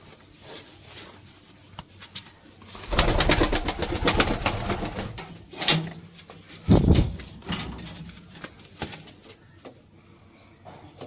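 Male and female pet birds released together, giving soft coos and fluttering amid rustling and a sliding bag or door sound, fairly close and intermittent.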